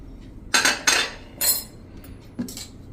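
Green garlic stirred with salt and pepper on a plate, giving a few distinct metallic clinks and scrapes of a spoon against the dish, close and spaced apart with quiet gaps between.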